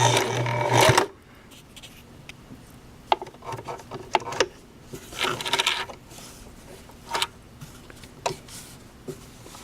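A home sewing machine stitches a skirt placket in short bursts of rapid mechanical whirring, with a louder run at the start, then brief stitches separated by pauses and small handling clicks, alone and close.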